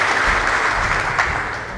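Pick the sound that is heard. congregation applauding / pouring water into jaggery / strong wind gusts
congregation applauding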